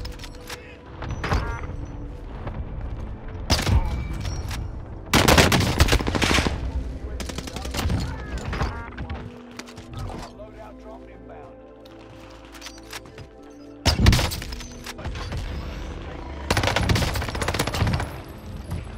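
Bursts of automatic gunfire from an SMG in a shooter video game, coming in loud rapid clusters separated by quieter gaps, with people talking excitedly over the shots.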